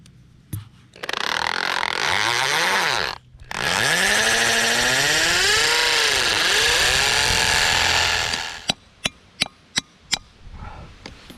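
A power drill bores into a house foundation in two long, loud bursts with rising and falling pitch, followed by a quick run of sharp hammer strikes driving a pin into the hole.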